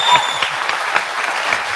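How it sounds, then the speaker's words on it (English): An audience at a gubernatorial debate applauds the candidates, a dense, steady patter of many hands clapping at close, even loudness throughout. "now you can applaud all the candidates"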